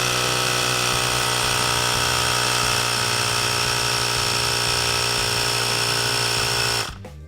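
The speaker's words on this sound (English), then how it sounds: "Grab your tire pump and attach the nozzle. And inflate to 36 psi." A powered tire pump runs continuously and loud up close while inflating an SX500 Dirt Rocket McGrath dirt bike tire to 36 psi, giving a dense, steady mechanical buzz that cuts off abruptly near the end.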